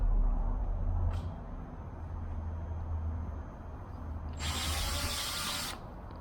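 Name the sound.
power drill drilling through wood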